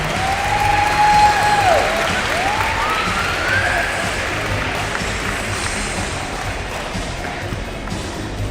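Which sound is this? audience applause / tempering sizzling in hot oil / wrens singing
audience applause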